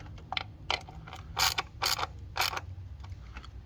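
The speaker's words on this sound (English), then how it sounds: "Alright, then we'll put in the 4 10mm bolts into each one. Then we'll secure these down." A socket ratchet clicks in short bursts while tightening 10mm bolts on the plastic valve cover of a 2016 Nissan Rogue engine, with several repeated loud ratcheting spurts close by.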